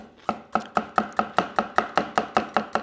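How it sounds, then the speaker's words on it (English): A knife cuts fine slices of seeded chilli on a chopping board in a fast, even rhythm, about a dozen crisp taps roughly a quarter second apart. The taps are close, clear and alone, with no talking. "it's quite nice to just remove the seed, and then we'll do nice fine slices"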